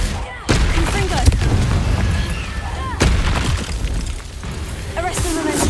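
In the video game Hogwarts Legacy, the Confringo fire spell explodes as a couple of heavy booming blasts, each with a rumbling tail, over continuous battle noise.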